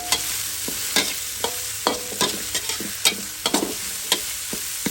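Curry paste frying in boiling oil for a Thai spicy stir-fry of free-range chicken with eggplant, with a steady sizzle broken by repeated sharp scraping and clacking strokes of a utensil stirring the pan.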